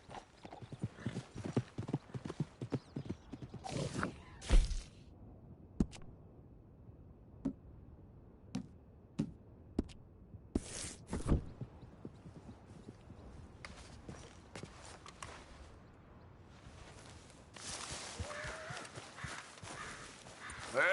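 Horse hooves in Red Dead Redemption 2 gameplay, beating a steady, quick clip-clop rhythm close by for the whole stretch, with occasional sharp louder knocks and a rougher, busier patch near the end.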